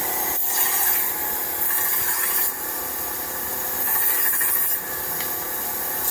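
A blade being sharpened with quick down-and-back strokes on both sides, a close, steady rasping rub that swells and eases every couple of seconds as the strokes change, with no voices.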